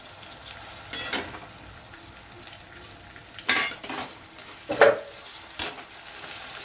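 Chopped tomatoes go into a pan of fried onion and ginger-garlic paste for mutton keema tarka dal: a constant sizzle under several sharp clatters of a spoon stirring against the pan, close by.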